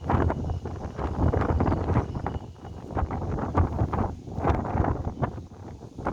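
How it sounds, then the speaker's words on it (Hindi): Strong, gusting wind blows outdoors, a loud, dense roar buffeting the microphone with rising and falling gusts and no speech. "आज आप देख ही रहे हैं कि अप्रत्याशित ढंग से जितनी तेजी से हवा चल रही है"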